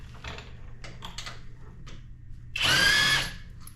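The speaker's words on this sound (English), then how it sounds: "we're going to use a 1/2-inch impact wrench with a 21mm extension to take the lug nuts off the" A 1/2-inch impact wrench with a 21mm extension takes a lug nut off a 2015 Toyota Highlander wheel. Light clicks and taps come first, then one loud, close whirring burst lasting about half a second.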